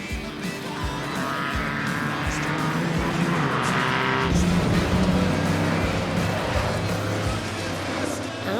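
Classic racing cars, among them an Austin Healey, roar along the Spa circuit, with loud sustained engine noise from several cars close by and a rising, shifting pitch as they pass.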